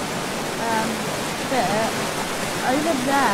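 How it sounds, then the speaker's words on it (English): A loud, steady roar of rushing water from a waterfall in the video game Roblox, a dense broadband wash filling the whole clip while a person speaks briefly over it. "this waterfall is so loud"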